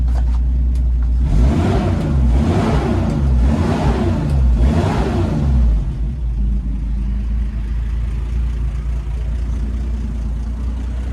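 A 1961 Toyota FJ40 restomod engine revs three times in rising, swelling bursts over its steady low idle, close and loud, then settles back to a rumbling idle with no talk.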